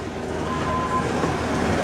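A roller coaster train at Blackpool Pleasure Beach rolls along its track with a loud, continuous rumbling clatter of wheels on rails and no voices.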